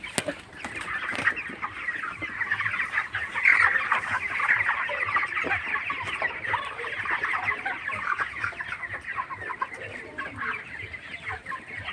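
Broiler chickens in a poultry farm shed cluck and chatter continuously as a dense, steady flock sound, with no talking over it.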